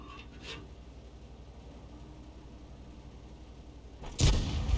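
In World of Tanks, a T26E5 Patriot tank cannon fires one sudden, loud booming shot near the end, after a faint earlier thump over a low engine rumble.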